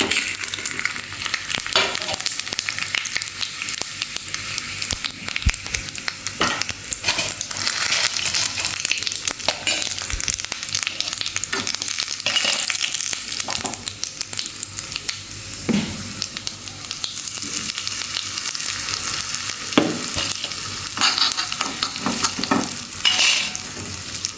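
Asafoetida and curry leaves fry in hot oil for a buttermilk kuzhambu tempering, giving a steady close sizzle with crackles and a few stirring clinks, without talk.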